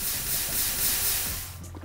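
Water poured over lava in Minecraft gives off a loud, steady hiss like spraying steam, broad and continuous for most of the moment before tapering off.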